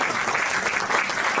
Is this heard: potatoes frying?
no